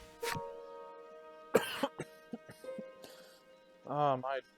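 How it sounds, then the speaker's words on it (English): A character in the card-based video game Voice of Cards: The Isle Dragon Roars coughs a few times in short, dry bursts over soft, sustained background music. "That cough is back again."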